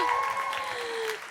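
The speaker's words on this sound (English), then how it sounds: "Everyone give Daisy a big round of applause" Brief burst of audience applause at a live theatre show at the Garrick, a dense patter of clapping with a tonal ring above it, fading slightly toward the end.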